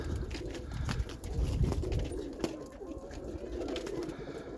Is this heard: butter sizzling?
no